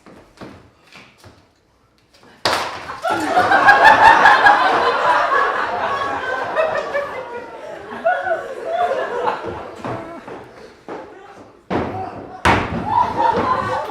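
On a stage during a school performance of the comedy The Learned Ladies, a person falls with chairs: a sudden loud crash and thud, then audience laughter and talking, and a second sharp bang near the end.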